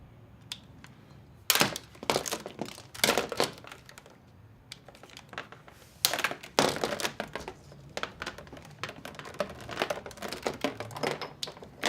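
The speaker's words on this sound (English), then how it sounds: "I want to open up my tubing kit." A plastic-wrapped hydroponic tubing kit is torn and unwrapped up close, with bursts of crinkling and rustling separated by quieter pauses.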